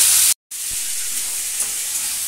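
Potato curry cooking in a pan gives off a steady, loud sizzling hiss with a brief cut near the start, continuing evenly without talk.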